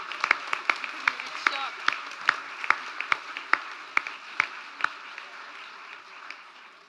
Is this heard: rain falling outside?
no